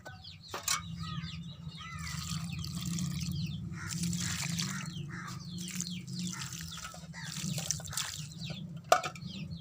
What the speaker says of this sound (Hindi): दोस्तों अब हम इसको पानी देते हैं।